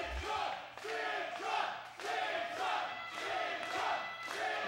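Crowd at an independent wrestling show chanting and cheering for a wrestler, rhythmic group shouts rising and falling in repeated pulses, moderately distant within an arena.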